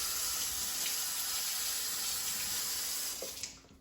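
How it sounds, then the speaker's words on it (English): Steady rush of tap water running over a ladle as it is rinsed in a kitchen sink, constant and fairly close, cutting off near the end with a few small splashes. "Let me rinse this ladle off real quick."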